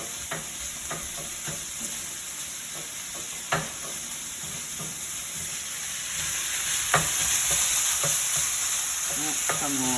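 Sausage and chopped chilies sizzle steadily in a hot pan for tomato sausage pasta, with a spoon or flipper scraping and tapping against the pan in irregular strokes throughout.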